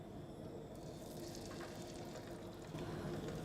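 Seasoned salmon frying in a pan of olive oil and local butter, a constant close crackling sizzle that grows slightly louder near the end, with no talk.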